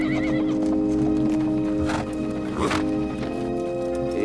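Horses on a long desert journey without water neigh and whinny while their hooves clip-clop steadily, heard fairly close within a busy mix of sound.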